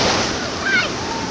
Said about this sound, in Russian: Вот так вот волна бьет